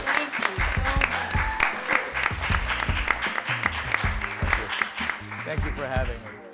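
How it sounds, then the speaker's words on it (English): A studio audience applauds a podcast guest at the close of the episode: dense, continuous clapping lasting several seconds, with a tonal musical or vocal bed underneath throughout. "Let's give our guest, Mr. Mark Crump, a great round of applause."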